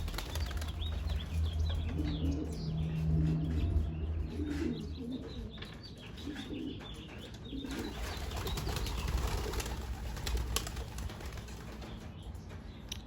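Young racing pigeons released for their first flight, wings clattering and flapping in bursts alongside soft coos and chirps, close by and continuing throughout with no talk.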